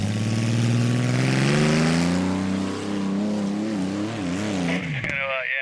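A monster truck engine revs hard during a reverse donut, its pitch climbing and then wavering up and down under load. The sound is loud and close and ends with a sharp pop and a clipped cutoff.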